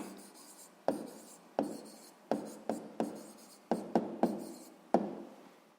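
Pen strokes on paper as the fraction seven twelfths is written out in a sixth-grade maths exercise: about ten short, crisp scratches in an uneven rhythm, close and quiet, with no voices.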